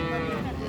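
A Friesian dairy cow moos once, close and loud, at the Ambari cattle market in Dinajpur: a short, deep, resonant call.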